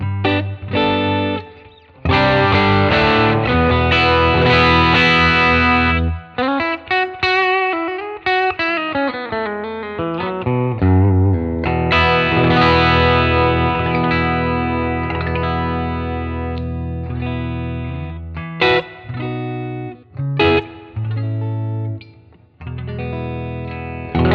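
Overdriven electric guitar with a humbucker pickup, played through another capture of a 1967 Fender Deluxe Reverb amp. It plays loud, sustained chords and bending lead lines with a few short pauses, heard alone throughout.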